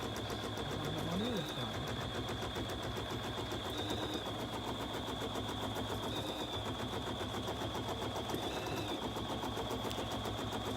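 A BERNINA 770QE sewing machine stitching runs as a quiet, fast mechanical patter with faint periodic whirs, continuous and low in level throughout.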